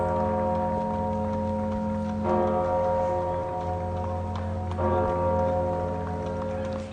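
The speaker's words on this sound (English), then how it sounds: "a welcome sound as the giant bell sounded over Paris" A giant bell in Paris tolls with long ringing overtones, two distinct strikes a few seconds apart, each hum lingering over a steady background drone.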